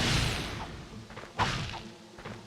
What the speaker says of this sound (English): I don't like breaking the boxes too fast